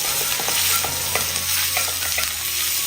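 Ginger garlic paste frying in a pan over medium flame and being stirred, a steady loud sizzle with scraping stir strokes throughout, no voices.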